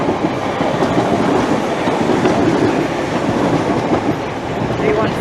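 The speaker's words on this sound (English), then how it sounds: "Wow, that's a lot of trains." Trains roll through Bethnal Green station in London as a loud, steady rumble with clickety-clack wheel noise, close and continuous, with no break across the stretch.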